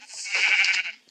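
A single sheep bleat from a survival video game, one drawn-out wavering call lasting about a second, close and clear with nothing else around it.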